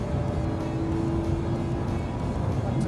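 Lotus Evora accelerating hard along the straight of the Hethel test track in England, a steady, loud engine drone with a faint rising tone, heard alone.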